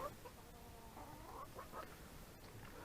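Chickens feeding on tomatoes mixed with ground grain meal, with soft clucking and murmuring calls from the flock over a steady farmyard background, fairly quiet and close.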